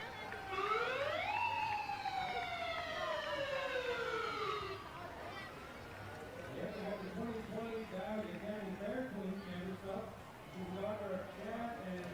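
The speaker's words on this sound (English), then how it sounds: "And this is Ambulance 47 from Blossburg." Ambulance 47 from Blossburg passes in a festival parade, its siren sweeping up and wailing down loudly, then switching to a rapid warbling yelp, with crowd voices beneath.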